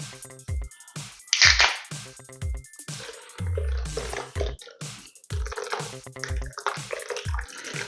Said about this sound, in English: so we're gonna pour in our Malta.